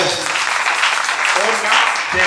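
A church congregation applauds to acclaim the Lord, a dense, steady wash of clapping lasting a couple of seconds, loud and close, with voices mixed in.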